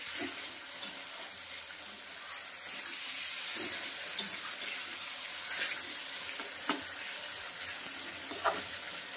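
Taro leaves cook with a hilsa fish head in a pan over the gas, a soft steady sizzle broken by occasional scraping clicks of stirring, close and fairly quiet, with no talk.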